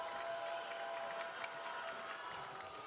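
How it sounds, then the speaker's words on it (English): Crowd at a women's college volleyball match in Welsh Ryan Arena, Northwestern hosting Ohio State, cheering and clapping in a sustained, fairly distant wash of applause and voices. "Solid crowd here at Welsh Ryan getting into it now."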